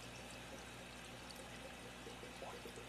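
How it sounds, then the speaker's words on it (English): Water in a budget aquaponics system rushes steadily as a pump or siphon kicks in and pulls it out of the tank, a continuous close pouring and trickling flow with no talking. "eventually it will kick in and it'll just start sucking all the water out."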